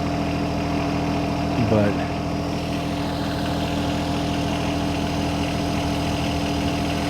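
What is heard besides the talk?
John Deere 1025R tractor engine running while tilling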